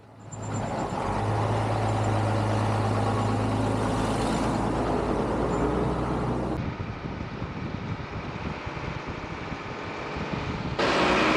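An expedition truck drives along an off-road BDR track through trees, with a steady engine drone and rumbling, wind-buffeted noise throughout. The tone shifts partway through.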